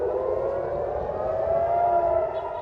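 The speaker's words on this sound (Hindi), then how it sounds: "यरूशलेम तक सायरन बज उठे।" Air raid sirens wailing across Israel, a sustained droning civil defense tone with a slowly shifting pitch, loud and continuous against a low background rumble.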